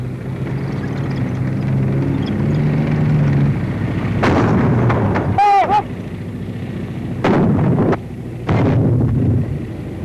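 37 mm anti-tank gun firing at a tank, heard as several heavy booming blasts with reverberant tails over constant wind-like rumble, including one sharp report with a ringing high-pitched whine, all in an old, noisy recording.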